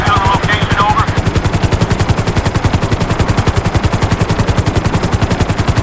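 Police helicopter rotor thudding in fast, even beats in the GTA 5 video game, mixed with loud bursts of rapid gunfire, a dense and steady clatter with no voices.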